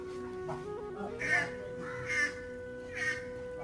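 A lost duckling separated from its flock gives repeated shrill, anxious calls, three clear peeps spaced about a second apart over a steady background hum, close and moderately loud.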